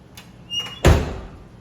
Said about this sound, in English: That's how you pop the passenger side.